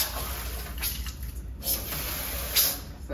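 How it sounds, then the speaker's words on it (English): Water poured into a pan while preparing a seafood boil with lobster tails, a steady splashing flow with a few brighter surges, close and fairly quiet. "So I put some water in this pan too."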